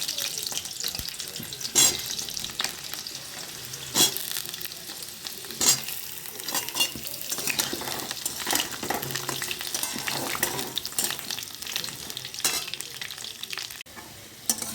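Continuous sizzling of potatoes frying in oil, punctuated by repeated scraping and stirring clatters against the pan at irregular intervals.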